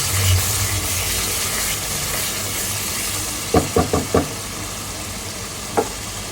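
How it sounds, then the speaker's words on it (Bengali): Roast masala spices fry in a pan with a steady hiss of sizzling. Partway through comes a quick run of four sharp knocks from stirring, followed later by one more, and no one speaks. "আমি রোস্টের মশলা দেবো এটা দেওয়ার পর আবার কতক্ষণ ভাজবো"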